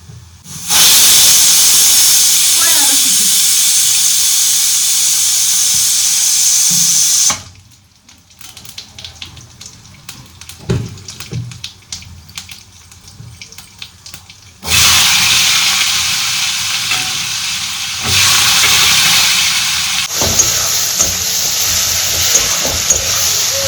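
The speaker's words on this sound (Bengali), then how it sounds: "এদিকে আলুটা ভাজতে আরম্ভ করে দিই" Sliced potatoes hiss and sizzle loudly as they fry in a pan in a home kitchen, the steady frying noise breaking off for several seconds of quieter clatter before resuming strongly.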